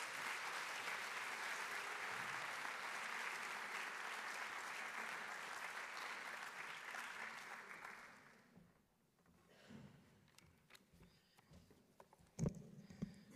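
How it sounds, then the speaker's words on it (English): Conference crowd at a TBEX Europe travel event bursts into sustained applause for a speaker, dense and even for about eight seconds before dying away into a quiet hall with stray sounds. "Can we give him an enormous round of applause?"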